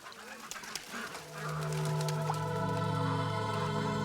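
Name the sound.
flock of geese making a racket on a pond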